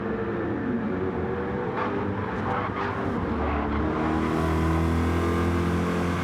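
Race car engines in a Gran Turismo 7 super touring race at Brands Hatch, a Corvette among them, whine and rev through gear changes, one car's engine growing louder and nearer toward the end.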